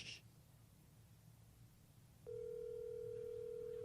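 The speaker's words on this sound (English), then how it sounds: "Oh, it's ringing." A telephone call connecting, a faint brief chirp followed by a steady, loud ringback tone holding evenly once it starts over low room hum, with no one talking.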